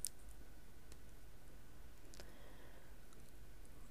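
A single crisp computer mouse click, quiet and close, followed by a couple of fainter clicks in a near-silent room.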